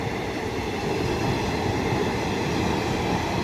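A down train rumbles past through Hooghly Ghat railway station in a continuous, even roar of wheels and carriages, fairly loud and close, with no voices.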